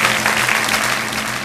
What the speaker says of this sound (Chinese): 来我们掌声送给十七号的嘉宾